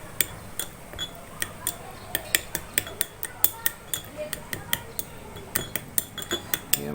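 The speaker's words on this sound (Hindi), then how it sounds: "ये मैं आपके सामने ही अभी मिक्स कर रहा हूँ" Spoon clinking steadily against a bowl while hair paste is mixed with a vitamin E capsule, a rhythmic series of light metallic taps close by, with faint talk in the background.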